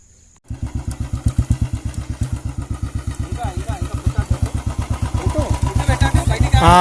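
Motorcycle engine revving in rapid, steady pulses during clutch and throttle control practice, loud and close throughout, with speech over it and the throttle rising toward the end.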